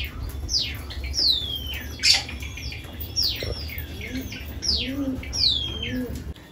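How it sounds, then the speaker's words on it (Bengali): Cockatiels and pigeons feed on wheat inside a lovebird colony, giving repeated sharp descending chirps and squawks near and clear, with soft low cooing rising beneath them in the second half. "আর এখানে দেখো ককটেলগুলো খেতে চলে এসেছে।"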